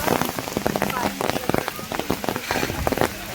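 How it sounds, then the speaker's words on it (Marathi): Light monsoon rain patters steadily on surfaces near Matheran, a close, dense spray of small drops with irregular heavier splashes. "आत्ता जाताना खूप पाऊस आहे बारीक बारीक"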